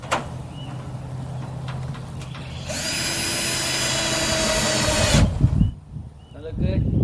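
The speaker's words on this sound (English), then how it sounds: "so I'm going to put 2 screws in there" A power drill drives two screws into wood while building a homemade greenhouse: a loud, steady motor whine runs for about two and a half seconds, then cuts off, with faint background noise and brief speech around it.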